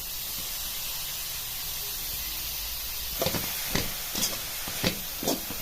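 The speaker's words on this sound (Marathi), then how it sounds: "आणि गाजर असं परतून घ्यायचं एक दोन पाच मिनिट असं तुपावरती परतलं" Grated carrots sauté in ghee in a pan, a soft steady sizzle that gains several close scraping stirs of the spoon in the second half.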